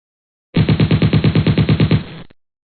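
Rapid automatic gunfire in GTA San Andreas, a loud burst of about fifteen evenly spaced shots over roughly one and a half seconds, ending abruptly with a short tail.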